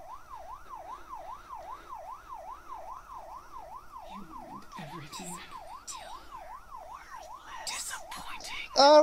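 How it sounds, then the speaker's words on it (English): A rapidly warbling police siren in a video game whoops up and down steadily in the background, joined later by brief thuds, clicks and a short voice. "Why am I hearing police sirens"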